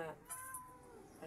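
A mother cat that has just given birth again lets out a brief, faint meow at the start, followed by quiet talk nearby.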